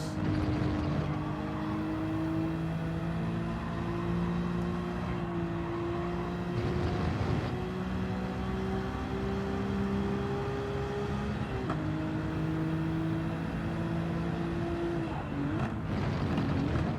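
Nissan Skyline R34 engine in the video game Gran Turismo 7, a steady droning race engine with rising and falling pitch through gear shifts, loud and continuous for the whole stretch.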